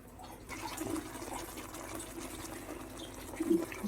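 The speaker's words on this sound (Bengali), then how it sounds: "জলটা আমি দিয়ে দিলাম" Cumin-spiced water pours steadily into a pan of frying spices for a prawn and taro curry, a soft continuous trickle with a couple of brief splashy spurts, close and fairly quiet.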